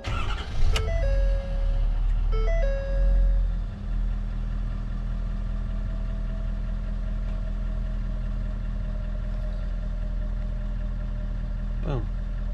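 A 2016 Ford F350 truck with about 157,000 miles cranks and its engine catches with a loud rumble, then settles into a steady, fairly close idle. A voice speaks briefly near the start.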